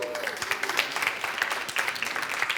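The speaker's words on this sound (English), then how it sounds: "Let's give Doreen a round of applause." Steady, dense audience applause for Doreen at a summit event, a continuous crowd clatter at moderate loudness throughout.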